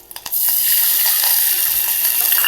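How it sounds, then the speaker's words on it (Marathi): Half a cup of water poured into hot oil tempered with mustard seeds, green chillies and curry leaves for dhokla erupts after a few splashes into a loud, steady sizzle that fills the whole clip, close and without talk. "आता ही अर्धा कप ह्यात पाणी ओतणार आहे"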